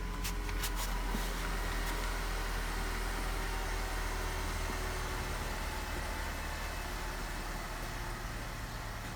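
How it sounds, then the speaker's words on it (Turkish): A Mercedes E250 CGI car engine idles just after starting. It is a steady, close, low hum with broad noise throughout, and a few faint clicks come at the very start. "Basar basmaz çalıştı."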